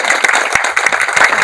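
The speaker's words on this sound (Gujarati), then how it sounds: "આપણે ડોક્ટર રાજીવભાઈ ને એમની ટીમને તાળીઓથી વધારી લઈએ" Audience applause at an orthopedic wellness awareness session, honoring Dr. Rajiv and his team: dense, steady clapping from a crowd filling the moment without talk.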